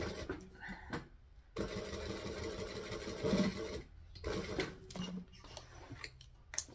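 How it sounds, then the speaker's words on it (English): A sewing machine stitching piping runs in short bursts, its fast mechanical chatter starting and stopping several times with brief pauses between, close and moderately loud. "I actually need to sew a little bit more right here."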